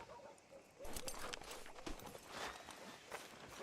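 Horse hooves clop along at a steady walking pace in Red Dead Redemption 2, soft and fairly distant, with irregular thuds and faint ambient game sound beneath.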